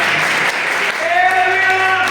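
A congregation clapping along with singing at a church meeting in Punjab: a steady wash of hand claps under a sustained sung or spoken voice.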